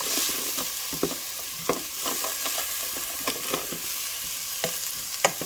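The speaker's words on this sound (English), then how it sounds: "I'm ready to put in my chopped onion now. And what I'll do is just cook this down a bit, just to sweat the onion." Chopped onion sweating in a hot pan for a chicken ragu, with a steady soft sizzle and several sharp scrapes of a spoon stirring at irregular intervals, close up with no talking.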